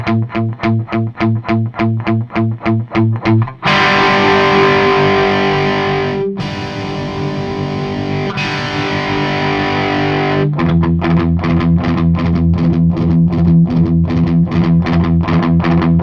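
An electric guitar played through a Metro-Plex amp while its middle EQ control is adjusted: rhythmic palm-muted chugs, then sustained distorted chords ringing out, and a return to steady chugging, loud and close with no voices.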